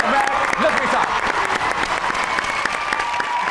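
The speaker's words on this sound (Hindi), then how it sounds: "चलिए तशरीफ रखिए, बहुत ही भरपूर तालियों में। Ladies and gentleman, Umar Najmi साहब।" A studio audience applauds as a young poet takes the stage at a talk show taping, with dense, steady clapping that stays close and continuous, some voices faintly mixed in.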